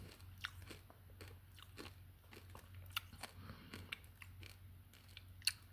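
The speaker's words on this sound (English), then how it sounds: "instead of being like chewy, it's crunchy" Freeze-dried grape Skittles crunch between the teeth in a quiet room, a steady run of crisp, close bites and crackles with a sharper snap near the end.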